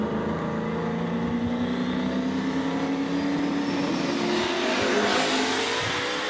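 A drag racing car, Taco Time, launches and accelerates down a street drag strip in the Carolinas, a loud continuous engine roar with steadily rising pitch lasting the whole stretch.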